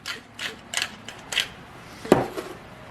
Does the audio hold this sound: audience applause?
no